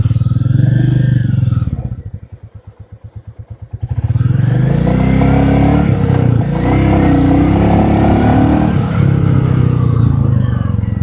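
A Royal Enfield Classic 350 Gorkha Edition pulls away in first gear, its single-cylinder thump dipping to a slow, distinct chug before swelling into a loud, close revving rumble as it accelerates.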